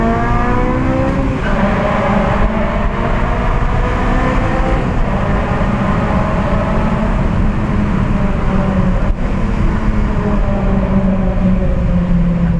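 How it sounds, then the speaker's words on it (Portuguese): Honda Civic Si with an aftermarket exhaust, revving hard: a loud, continuous, close exhaust note with rising and falling pitch and no talking over it. "muita gente me pergunta do ronco do meu carro e tal"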